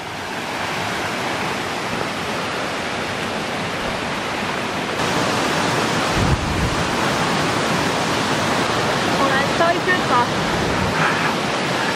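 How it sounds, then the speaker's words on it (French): A waterfall in Bulgaria roars with steady, dense rushing water close by, the flow loud and unbroken and swelling slightly partway through. "Nous, on va vers une cascade. Vous l'entendez d'ailleurs. Enfin, on entend l'eau qui coule."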